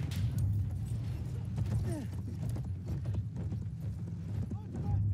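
Horse hooves clip-clop in Battlefield 1 amid the clatter of a close-quarters multiplayer battle, running steadily through the moment under a commentator's continuous talk and game noise.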